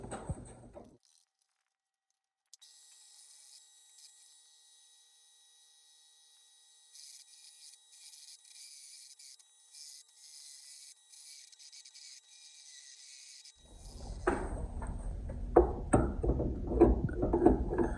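Metal cutting on a Honda trailer hitch: after long near-silence and a faint thin whine, a rough, gritty rasping and grinding bursts in close and fairly loud for the last few seconds.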